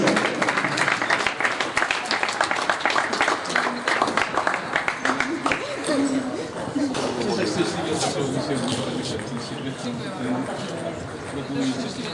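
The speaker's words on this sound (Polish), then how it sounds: "Gorąca brawa dla zawodniczek" Applause for the players at a regional table tennis championship, steady clapping from a hall crowd lasting throughout, mixed with chatter and voices talking over it.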